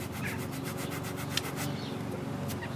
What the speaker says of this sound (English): I'm just using a little bit of sandpaper they provide